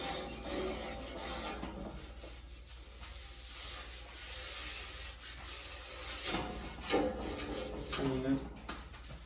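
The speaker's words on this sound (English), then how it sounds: "just take a putty knife, scrape all this off" A putty knife scrapes old material off the wear bar of a Moose UTV plow in steady, rough rasping strokes, fairly quiet, with someone talking over it.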